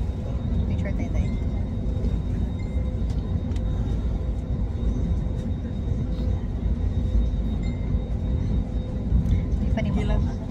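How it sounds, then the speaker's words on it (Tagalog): An airplane passes overhead in Manila, a steady loud low rumble that holds through the whole stretch with no clear rise or fall, heard alongside street ambience. "Kasi aeroplano na."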